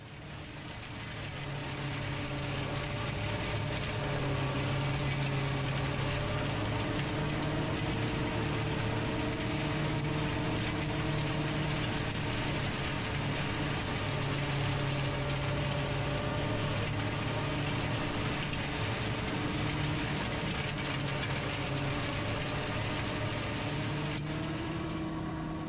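A tractor powers a flail mower through brush along a fence line, making a loud, steady engine drone with a constant mechanical whir that builds at the start and then holds for the full stretch, with no voices.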